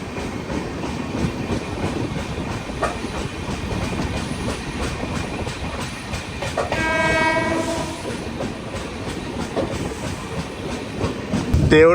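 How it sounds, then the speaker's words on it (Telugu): The Nagercoil–Mumbai passenger train rolls past near Kanyakumari with a loud steady rumble and wheel clatter, and a horn blast sounds about midway through. "ఇది నాగర్కోయిల్ ముంబై ట్రైన్."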